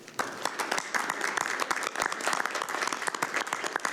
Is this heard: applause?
yes